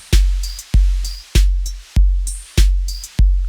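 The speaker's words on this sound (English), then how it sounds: "So you can hear that hiss right now ducking or pumping if you prefer." A punchy beat of kicks and snares runs through a tape deck emulation plugin in FL Studio, its tape hiss dipping under each hit and swelling back between them in a pumping rhythm.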